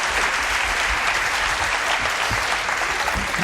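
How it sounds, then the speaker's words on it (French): Steady, dense studio audience applause for a professor on a French television show, loud and continuous throughout with no break or voices. "Applaudissements, professeur Ivar."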